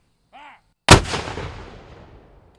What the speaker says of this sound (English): That's one cannon, folks.